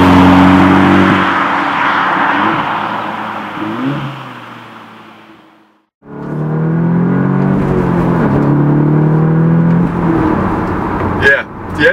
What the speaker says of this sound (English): the engine in this car is just lovely. It's a 2-liter TFSI 4-cylinder engine that is turbocharged